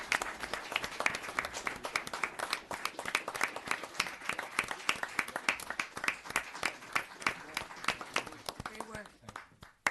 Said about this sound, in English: How about a round of applause for both of these officers?